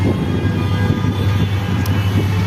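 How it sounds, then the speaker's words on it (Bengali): A train approaching along a railway line produces a steady, loud low rumble that holds throughout, with no voices. "ট্রেন আসছে"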